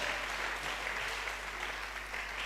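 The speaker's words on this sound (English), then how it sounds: "Can we give her a better round of applause?" An audience claps steadily in a dense, even round of applause at an indoor lecture event, with no voices over it.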